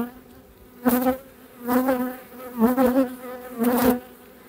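Honey bees buzzing at an open hive during a spring apiary inspection, a dense drone broken by several louder close passes of bees near the listener.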